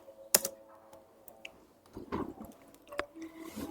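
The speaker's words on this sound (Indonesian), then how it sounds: "setelah itu kita ketikkan ls min" Typing a command on a computer keyboard, heard as a few scattered quiet key clicks and soft taps close by with no talk.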